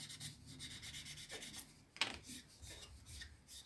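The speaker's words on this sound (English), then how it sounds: "I don't apply any pressure. I just put the sander on the model" Faint rubbing strokes come from a sander worked lightly, without pressure, over a Mitsubishi Zero scale model. The soft rasping repeats quietly with a sharper scrape partway through.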